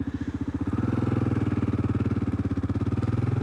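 A 2022 Kawasaki KLR650 single-cylinder motorcycle fitted with a Yoshimura RS-2 exhaust idles close by, giving a rapid, even, throbbing thump that runs without a break. No one speaks.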